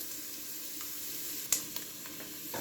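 Chopped onion sautés in a pan with a soft, steady hiss of frying under a couple of faint clicks from a utensil, quiet and continuous throughout.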